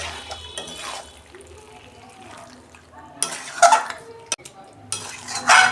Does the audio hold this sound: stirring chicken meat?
yes